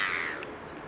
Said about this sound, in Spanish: Hasta los pájaros están locos acá.